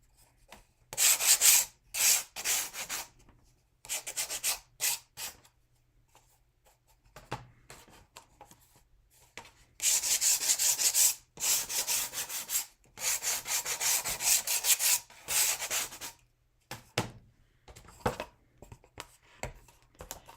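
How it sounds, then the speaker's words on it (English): Bursts of hand sanding on wood during a craft project, irregular scratchy rubbing strokes in clusters separated by short pauses, fairly close. "Sorry, I'm sanding."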